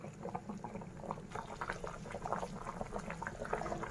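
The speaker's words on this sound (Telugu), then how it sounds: "పులుసు మరుగుతుందండి." Thick red fish tamarind stew simmering in a pot, close bubbling and soft popping in an irregular rhythm, quiet and without talk.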